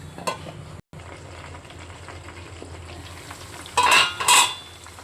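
Chicken pakodi pieces deep fry in plenty of oil over a high flame, with a steady crackling sizzle, a short pause near the start and two louder bursts of spattering toward the end.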